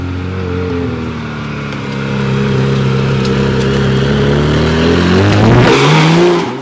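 A Porsche GT3 4.0 driving on the road, its engine droning loudly and steadily before the revs climb into a rising howl near the end, with no talk over it.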